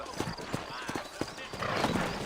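Horse hooves clip-clopping on a road in the Red Dead Redemption video game, a steady walking rhythm under a voice, with a horse neighing briefly and other game ambience around it.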